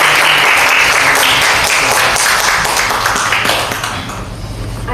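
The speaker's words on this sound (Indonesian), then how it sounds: "Kita berikan aplaus dulu." A school podcast audience at SMK N 6 Surakarta gives a steady round of applause, dense clapping throughout that fades slightly toward the end, with no talk over it.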